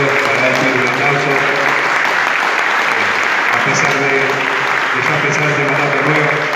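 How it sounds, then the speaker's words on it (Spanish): Audience members at a club's annual financial assembly applaud in a loud, continuous round of clapping that holds steady throughout, with faint voices murmuring beneath it. "para decirle un aplauso"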